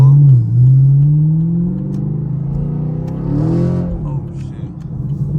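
A Chevrolet Camaro SS accelerates hard in a short pull, its engine note loud and close, climbing in pitch before easing off, with a voice briefly heard over it.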